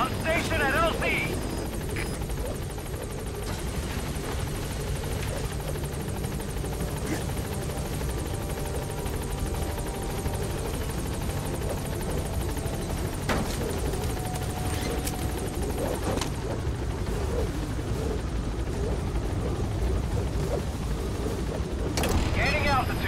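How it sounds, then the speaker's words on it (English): Pequod, the support helicopter in Metal Gear Solid V, comes in toward the landing zone: a steady, dense rotor and engine roar holds throughout, with game radio voices and other effects over it. "This is Pequod. Arriving shortly at LZ."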